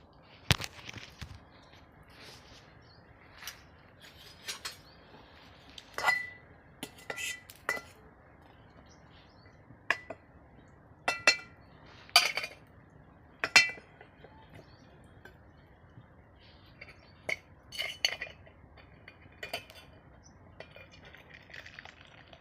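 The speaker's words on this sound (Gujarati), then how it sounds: "આપણો શા પાકી ગયો છે મિત્રો, હવે આને ગાળી લઈશું કીટલીમાં" Tea being poured and strained into a kettle, heard as scattered clinks and clatters of metal utensils and dishes at close range with soft liquid sounds between them, some louder knocks standing out, and no talking.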